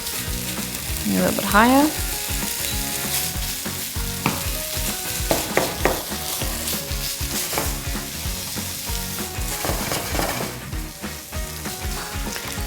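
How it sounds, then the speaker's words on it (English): Bacon pieces frying in a pan on medium-high heat give a steady, close sizzle throughout, with occasional clinks and stirring, and a person speaks briefly over the sizzle. "The first step is to fry your bacon."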